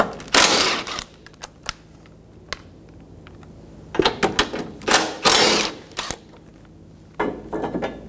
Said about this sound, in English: Using a 17mm socket, remove the bolts out of the tower bar.